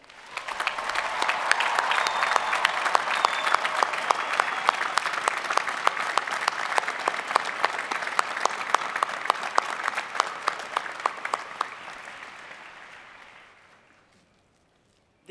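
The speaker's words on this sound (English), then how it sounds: "Will the students please join me in applause for your family members?" Sustained applause from a large graduation ceremony crowd honoring family members, dense steady clapping lasting over ten seconds before tapering off and fading to silence.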